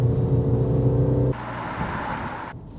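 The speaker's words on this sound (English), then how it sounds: "I suspect the exhaust crackling is actually coming from the speakers instead of the exhaust pipes." The engine of a 2024 Mini Countryman JCW drones with a steady low harmonic hum, then cuts to a rougher crackling burble for about a second before falling quiet. The sound is close and fairly loud.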